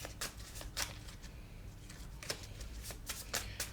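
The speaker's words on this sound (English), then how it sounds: "These are so awkward to shuffle my little trinkety cards." Small tarot cards being shuffled by hand, close up: several quick, crisp riffling bursts with short pauses between them.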